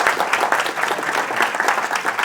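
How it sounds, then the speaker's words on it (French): Crowd at a political meeting in London applauding themselves, dense, loud, continuous clapping with a lively rhythm throughout. "Vous pouvez vous applaudir."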